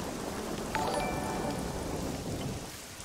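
Steady rainfall in the survival game SCUM, a constant hiss of drops at moderate level with faint rumbling beneath, no voices.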